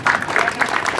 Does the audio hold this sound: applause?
yes